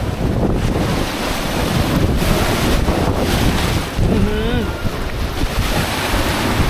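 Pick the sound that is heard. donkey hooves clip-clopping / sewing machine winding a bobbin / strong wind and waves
strong wind and waves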